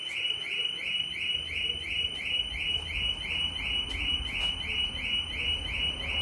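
A car alarm going off, a rapid repeating electronic warble of high pulsing tones cycling continuously over a low rumble, steady and moderately loud, with no voices.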